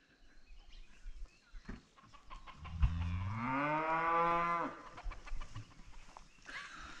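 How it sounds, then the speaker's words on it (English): A cow gives one long, loud moo of about two seconds, rising and then falling in pitch, from livestock near the road on the slopes of Haleakala on Maui. It stands out over faint rustling and background noise. "cows."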